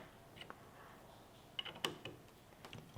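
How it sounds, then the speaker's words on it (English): Allen wrench turning the pusher bolt of a sight pusher tool, faint metallic clicks and ratcheting creaks scattered over a soft background hiss, close up. "we take an Allen wrench and we start to turn our pusher bolt"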